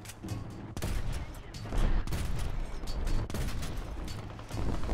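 Dense, loud gunfire in a War Thunder battle, with a Stuka strafing friendly units using armour-piercing rounds: continuous rattling bursts and booms packed closely together, filling the whole stretch without pause.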